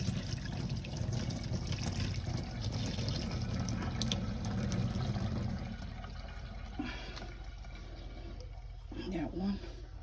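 Tap water running steadily over black-eyed peas in a kitchen, a continuous splashing rush that softens partway through, with someone talking over it.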